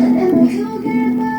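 Music through a Broadway CB-15 active speaker on its jazz EQ preset, fairly loud and continuous, with a strong midrange tone and little high-end sparkle.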